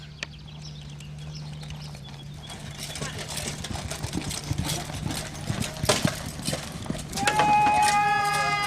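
Horse gallops in a jousting charge, hooves clip-clopping close by in a quickening rhythm. Crowd noise and voices build under the hoofbeats, and a sharp impact and a swell of sound come near the end.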